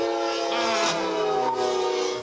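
A train rolls along active railroad tracks and sounds a loud, sustained horn blast with a falling tone, close by and continuous, with no talk.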